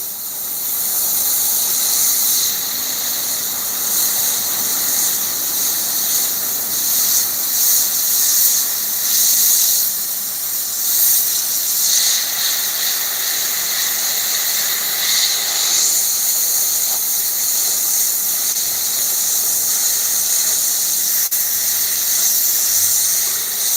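An airbrush sprays paint onto a hoodie, a continuous high airy hiss with short bursts and pauses as the trigger is worked, close and steady throughout.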